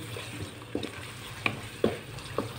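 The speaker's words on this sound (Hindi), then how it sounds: "मसाले को थोड़ा सा भूनेंगे।" Spices roasting in a pan for aloo matar biryani, a quiet low sizzle with a few soft stirring knocks and scrapes spaced out over a couple of seconds.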